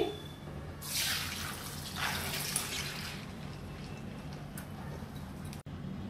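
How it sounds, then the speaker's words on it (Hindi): Soaking water is drained from soaked lentils, splashing and pouring out in a couple of bursts, then trickling and dripping quietly, close by with no talking. "अब हम ये पानी पूरा ड्रेन कर लेंगे"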